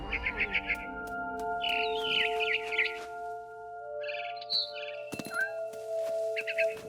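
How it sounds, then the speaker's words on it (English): A barn swallow chirps in the video game What Remains of Edith Finch, with several short bursts of bright twittering over a low ambient drone and a few sharp clicks. "Then I heard chirping outside my window. It was a barn swallow going back to her nest."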